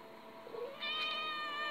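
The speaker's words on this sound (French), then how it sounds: "vous avez vu passer Luna, mon chat" A pet cat meows once in a home, a brief soft call followed by a longer, louder sustained meow close by.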